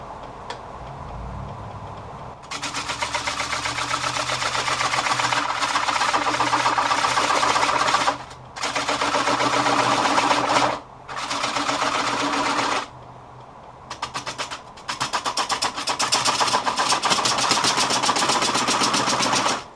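A wood lathe spins a coastal redwood blank for a serving plate at 500 RPM while a 3/8-inch bowl gouge cuts. The machine produces a steady rhythmic whir with a fast ticking pulse in long bursts and brief pauses, loud throughout and with no talk.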